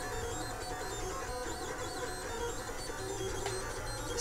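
A Lulzbot Mini 3D printer finishing a print, giving a steady, fairly quiet mechanical hum and whir with faint stepper-motor tones, continuous and even throughout, with no talking.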